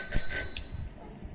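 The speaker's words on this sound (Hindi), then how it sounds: "घंटी भी ऐसे ऐसे इतना जोर से बजाओ" A child rings a bicycle bell hard, with two or three quick, bright dings close by in the first half-second, then the ringing fades to quiet.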